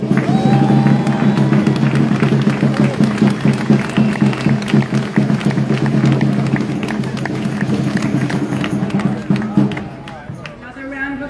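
At a refugee justice campaign meeting, a room full of people applauds and cheers, with steady clapping and crowd noise running loud for most of the stretch before thinning out near the end over a low hum.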